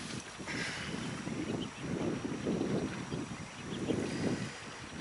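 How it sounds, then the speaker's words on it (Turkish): Strong gusting wind buffets the microphone at a lakeside carp fishing camp, roaring in continuous low rumbling surges that swell and fade with no talk. "çok rüzgar var"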